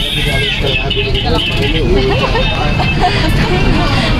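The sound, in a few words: riding inside a bus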